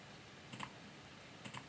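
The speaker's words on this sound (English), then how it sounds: "by just clicking X on the keyboard" Two quick clicks of a key being pressed on a computer keyboard, spaced about a second apart, very faint against a quiet room hiss with no talking.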